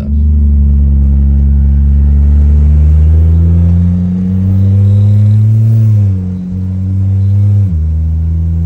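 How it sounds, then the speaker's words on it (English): A BMW E30 engine holds a loud, steady, low drone as the car drifts, with revs rising and then dropping sharply near the end, close by and alone. "drift E30 right there."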